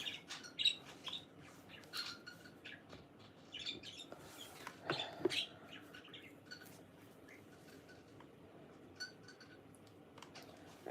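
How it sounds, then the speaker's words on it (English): A pet bird chirps and squawks in short, scattered calls at moderate distance in a quiet indoor room, with faint clicking between the calls and no talking. "There's my smelly bird chirping away."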